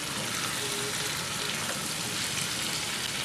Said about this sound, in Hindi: इन सबको अच्छी तरह से भून लेंगे